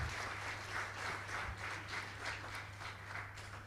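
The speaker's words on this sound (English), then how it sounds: "Give us applause again." Faint applause from a seminar audience at an international puppetry festival in Bali, a soft continuous patter of clapping heard from a distance over a low hum.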